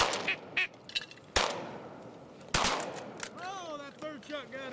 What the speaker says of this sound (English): Yeah, I shot.